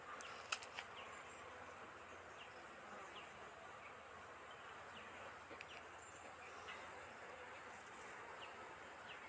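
Honey bees buzzing around an opened beehive box being split in two, a soft continuous swarm drone with faint individual bees passing near, a few small knocks early on, and no talk.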